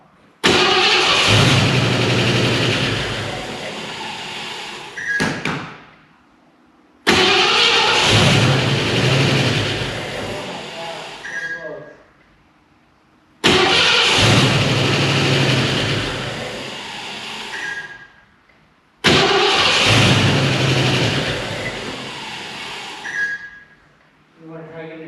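A Ford Mustang with a stalling problem cranks and tries to start in four loud, close bursts, each whirring attempt cutting off into short pauses between tries.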